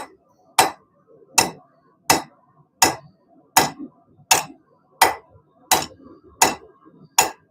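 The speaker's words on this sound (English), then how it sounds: "The big hammer." A big hammer forging hot steel while throwing knives are made, striking ten loud, close, sharp metallic blows at a steady rhythm of about one every 0.7 seconds, each with a short ringing decay.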